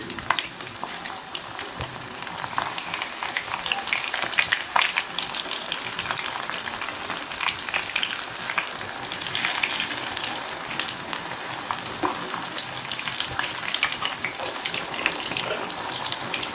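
Vada fry in hot oil as they are stirred and turned, a continuous bubbling hiss that stays loud and even throughout.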